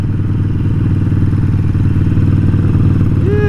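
Custom Harley-Davidson Sportster Forty-Eight cruising around town at low speed, a loud, close, steady lumpy V-twin exhaust throb with no talk over it.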